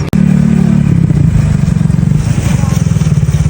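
A 200–250 cc Italika motorcycle ridden at night in Mexico City gives a loud, steady engine drone with a pulsing low throb that runs close and continuous throughout.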